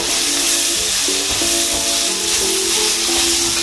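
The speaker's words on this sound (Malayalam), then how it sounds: "നമുക്കൊരു ഉരുളി വെച്ചു കൊടുക്കാം അതിലേക്ക് വെളിച്ചെണ്ണ ഒഴിച്ചിട്ട് ഞാൻ ഒരു രണ്ടര സവാളയാണ് എടുത്തിട്ടുള്ളത്" Sliced onions fry in coconut oil in an uruli, a steady close sizzle and hiss running without pause, with a faint melodic tone underneath.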